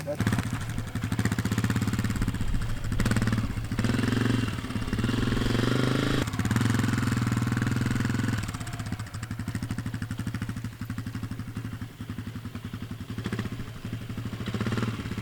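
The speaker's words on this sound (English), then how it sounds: "So I will let him go in the circles a little bit in the first gear" A Honda CRF250F dirt bike putters in first gear while riding in circles, its steady mid-pitched engine drone rising and falling slightly as it moves around, with a person talking over it.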